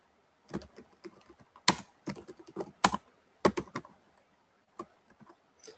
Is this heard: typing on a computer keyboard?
yes